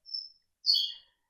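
A pet bird sings two short bright chirping phrases, a thin whistle followed by a richer warbling trill, close and clear with a brief pause between.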